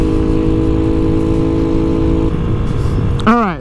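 A Honda Ruckus automatic scooter-style motorcycle engine running loud and close, a steady idling drone that shifts partway through, ending with a sharp rising rev.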